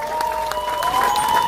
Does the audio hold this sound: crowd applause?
yes